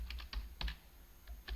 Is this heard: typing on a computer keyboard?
yes